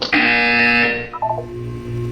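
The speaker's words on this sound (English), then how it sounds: "When you hear the buzzer, look down at the floor." A loud electronic buzzer from the Portal 2 video game sounds alone, one sustained harsh tone lasting about a second, then a brief stuttering pulse and a lower lingering hum.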